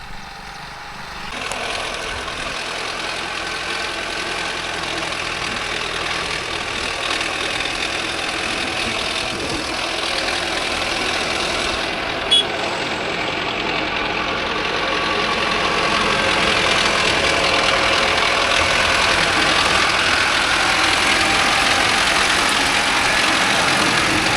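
A Mahindra 605 S tractor with a rotavator working a field, its diesel engine droning steadily and loud throughout, swelling slightly toward the end, with no talk over it.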